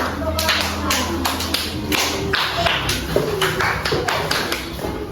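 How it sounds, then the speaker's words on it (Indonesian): Classroom of children applauding a student group after it reads out its discussion results in a fourth-grade science lesson on photosynthesis; a steady patter of claps runs throughout, with soft classroom murmur and voices beneath. "Beri tepuk tangan untuk kelompok daun yang sudah membacakan hasil diskusinya."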